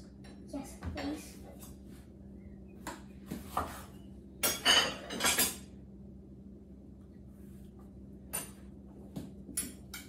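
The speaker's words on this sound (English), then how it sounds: "Should I chop the bananas?" A knife chops bananas on a plate while a Nutella and peanut butter banana sandwich is being made, giving scattered short clinks and taps with brief silent gaps and quiet talk.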